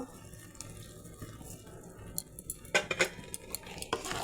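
Raw mango pickle with vinegar being mixed with powdered spices, a spoon scraping and clinking against a pot in a quick irregular burst after a quieter start.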